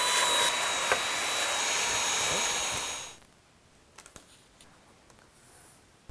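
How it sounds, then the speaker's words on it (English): A vacuum cleaner drones loudly while it sucks up small pieces from the glass of a record album display frame, then cuts off after about three seconds, leaving faint clicks and handling noises. "I'm just going to carefully vacuum this up without scratching the glass."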